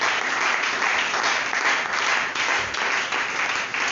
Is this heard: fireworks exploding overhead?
no